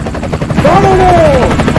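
A loud helicopter with pulsing rotor chop and heavy engine roar, close by, while a brief whine sweeps across it.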